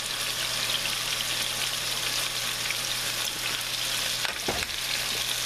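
Seasoned chicken browning in a pan, a dense, continuous close-up sizzle and crackle with a brief stir or scrape near the end.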